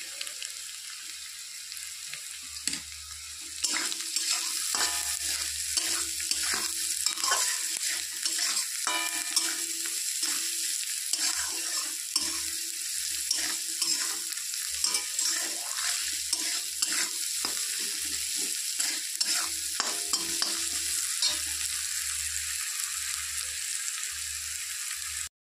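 Chopped onions gently browning in a pan with salt, a soft continuous sizzle broken by frequent scraping stirs of a spatula over about twenty-five seconds, close and low in level, with no speech.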